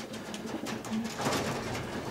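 Racing pigeons coo softly inside a loft in Bucharest, Romania, during the breeding season with chicks present; several low, rolling coos overlap close by against a faint rustling background.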